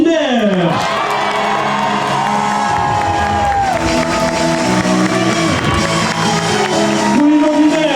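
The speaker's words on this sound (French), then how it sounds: "Applaudissements publics pour Pauline Van Wiener." A loud street crowd cheers and whoops for Pauline Van Wiener at the Paris café waiters' race, shouts and cheers blending with strong musical tones in a continuous roar.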